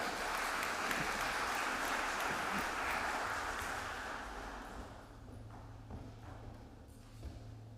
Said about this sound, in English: Let's give a warm round of applause to Robert Calcagno.